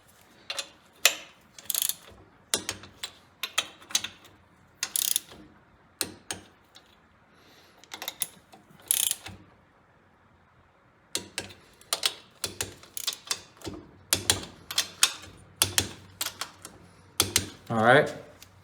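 Torque wrench clicking and ratcheting while tightening bolts on a Kohler Magnum 18 engine, in short irregular bursts of sharp mechanical clicks separated by quiet pauses.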